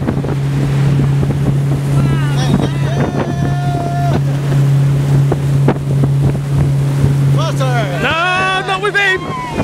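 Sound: motorboat engine running while being driven

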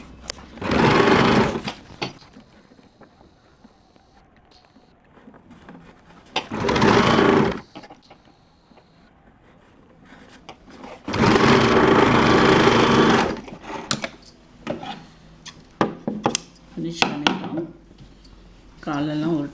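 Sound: sewing machine stitching kids' underwear

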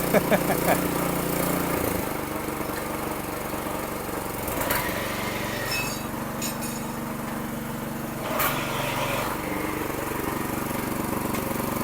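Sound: new power weeder engine running

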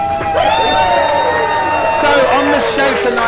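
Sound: audience applause and cheering for the show host

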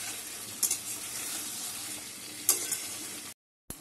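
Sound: prawns being sautéed slowly in a pan

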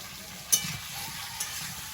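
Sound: onion frying in a pan with potato and papaya

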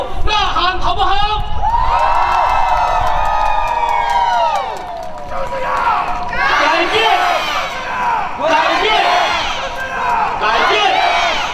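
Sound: crowd shouting and cheering at a political rally

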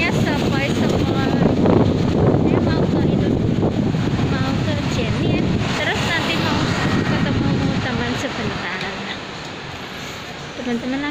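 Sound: gentle breeze, wind on microphone

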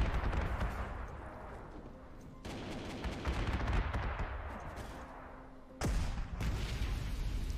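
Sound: artillery fire hitting troops in the video game Panzer Corps 2

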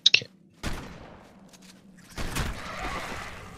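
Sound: shotgun gunfire in video game Ark Survival Ascended

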